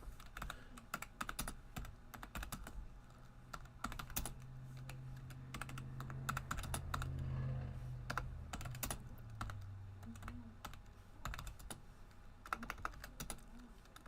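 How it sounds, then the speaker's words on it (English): Rapid clacking on a computer keyboard runs in uneven bursts of keystrokes, close and fairly quiet, with a low hum rising briefly in the middle. "what's with my typing right now?"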